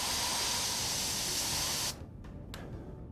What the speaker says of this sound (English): demonstrating the improper way of spraying by using a long, continuous burst into the face of the aggressor